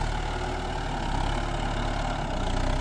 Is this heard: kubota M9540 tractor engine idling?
yes